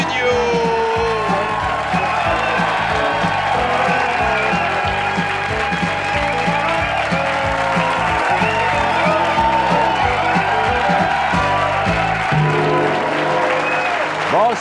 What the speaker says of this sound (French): Applaudissements et dites bonjour le studio!